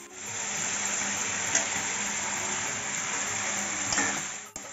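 Potatoes tossed into hot spiced oil in a pan while cooking an aar fish curry give off a steady, even sizzle that holds for the whole stretch with only small flare-ups and no talking.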